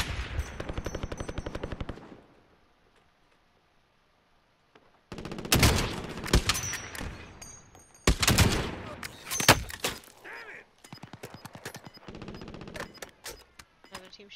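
Gunfire from another team fighting in a video game, bursts of rapid automatic shots separated by a quiet gap, then several further volleys of varying loudness.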